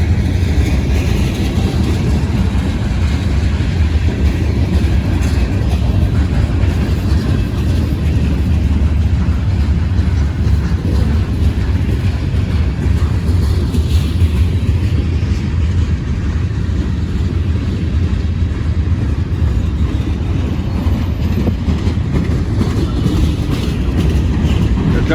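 A long freight train with boxcars rolls past near Cresson, Pennsylvania, its loud, continuous low rumble and rattle holding steady throughout without a break.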